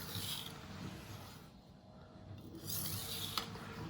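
A chef knife rasps back and forth across a Naniwa whetstone, steady gritty strokes close by that dip briefly in the middle before resuming, with no voices.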